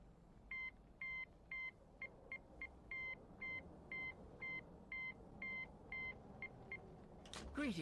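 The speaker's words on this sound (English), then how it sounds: "find the phone that is ringing" A telephone rings in a subway inside a video game, a repeating electronic ring in even bursts over a low background hum, ending in a brief swoosh.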